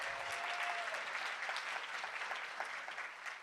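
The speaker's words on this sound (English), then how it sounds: "I just really wanted to ask for a big round of applause for the three wonderful women that presented just before me" Audience applause at a tech talk event honoring women presenters, steady broadband clapping from a room full of people, moderately loud and sustained for a few seconds with no speech.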